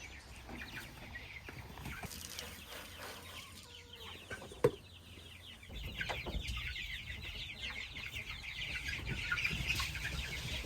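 A flock of meat chickens clucks and murmurs softly nearby, with one sharp louder squawk partway through. The chatter grows busier and a little louder toward the end, with no voices over it.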